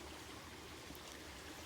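Creek water flowing steadily over a farm field crossing, a continuous soft rushing wash heard alone at low level.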